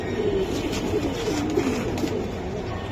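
A racer pigeon coos in soft, rolling low murmurs, repeated several times close by over a faint background hum.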